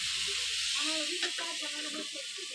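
Soybean and vegetable curry sizzles and hisses steadily in a pan as it fries, with a soft knock or stir near the middle.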